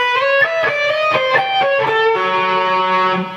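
Heavily distorted electric guitar playing a solo line, with a run of fast, clearly separated picked notes that settles into a sustained held note, close and loud with no talk.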